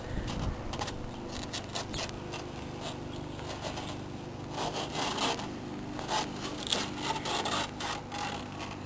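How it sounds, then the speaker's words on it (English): Excess vinyl from a rear window graphic is peeled loose, giving a steady rubbing, tearing rasp with irregular crackling bursts that run nonstop, close up and moderately loud. "Now you should be able to pull the excess material loose."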